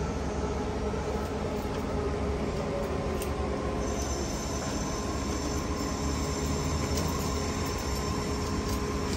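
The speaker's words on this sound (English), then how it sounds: "Oh, we got a Union Pacific freight train" A heavy Union Pacific freight train rumbles steadily past nearby in Oakland, with dense low-end roar, rattling cars and faint metallic squeals throughout.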